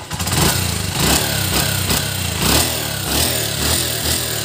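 A Honda TMX 125 motorcycle engine, recently cold-started, is revved on the throttle in a series of rising and falling surges over a loud, steady running note, heard up close.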